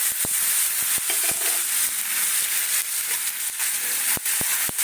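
Ginger and tomato fry in a hot pan with a steady, close hiss and sizzle, broken by occasional sharp clinks of a stirring utensil.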